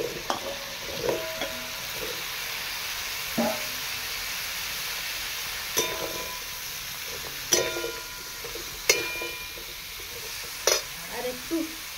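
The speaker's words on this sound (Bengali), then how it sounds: "আমি এই পর্যায়ে দিয়ে দিচ্ছি কুমড়োগুলো, ধুয়ে রেখেছিলাম, তো কুমড়োগুলো দিয়ে দিচ্ছি।" Pumpkin pieces fry and get stirred in hot spiced oil in a pan, giving a steady close sizzle with several sharp scraping stir strokes at irregular intervals.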